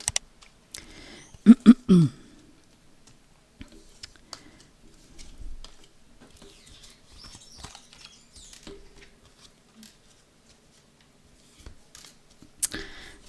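Tarot cards are cut and shuffled at close range, making a quick cluster of sharp flicks and slaps followed by softer scattered taps and shuffling, with a brief burst of card sounds near the end.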